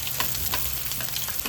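Chicken blooms frying in oil in a pan as oil is spooned over them, giving a loud, dense crackling sizzle with brief spattering bursts.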